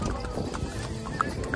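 Horse hooves clip-clop during a horse ride in Gulmarg, quick uneven steps over steady wind-like rumble, with faint voices in the background.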